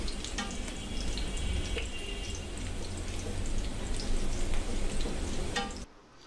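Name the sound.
water added to frying pointed gourd (potol) in pan, sizzling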